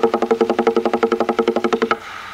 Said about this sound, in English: Two strokes in each hand, also known as the open roll.